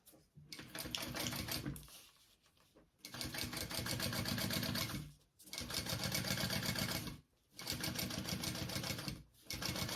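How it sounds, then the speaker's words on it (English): A sewing machine top stitches a seam on a tote bag in rapid mechanical bursts, four runs of steady stitching separated by short pauses, close and clear. "I'm gonna top stitch that"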